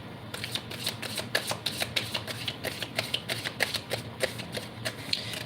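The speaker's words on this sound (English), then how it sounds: "Okay, I'm going to keep shuffling." Tarot cards being shuffled, a quick run of crisp riffling snaps and flicks in an uneven rhythm, close and moderately quiet, with no talking.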